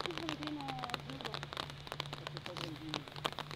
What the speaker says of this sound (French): là il commence vraiment à pleuvoir, il y a un énorme orage derrière